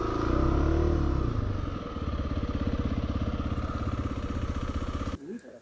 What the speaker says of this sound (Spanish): a estacionar la moto